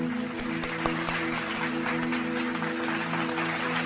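Applause from a church congregation during a service, a steady wash of hand clapping that holds throughout at moderate level, with a low sustained organ or keyboard tone underneath.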